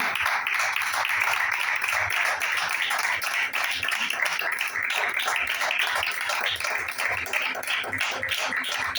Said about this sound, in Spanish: Entonces hágale fuerte las palmas al Señor.